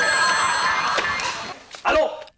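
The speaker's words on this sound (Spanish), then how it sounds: "¡Teléfono! ¡Teléfono!" A telephone bell rings steadily and loudly in a comedic stage scene, its shrill ringing running under shouted voices before cutting off near the end.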